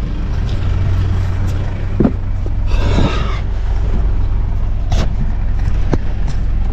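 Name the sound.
heavy equipment machine being driven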